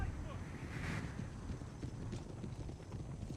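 Mounted Armenian shooters in Empire Total War ride in a continuous clatter of hooves, mixed with wind-like battlefield noise across the whole stretch.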